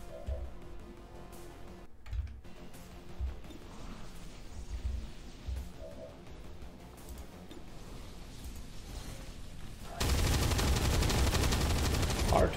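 Cyclic Fire in XCOM 2: Long War of the Chosen during a Chosen Stronghold raid, with scattered gunshots and game effects through most of the stretch, then a sudden loud, dense burst of rapid fire near the end.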